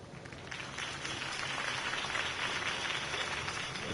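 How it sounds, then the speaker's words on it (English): Applause for a campaign speech in the Batman Telltale video game, a dense and even wash of many hands clapping that holds steady for a few seconds. It stays faint and distant, with no voices over it. "If only Mr. Wayne, my campaign's largest backer, could have heard that applause"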